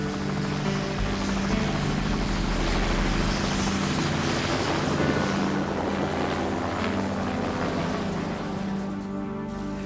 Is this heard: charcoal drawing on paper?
no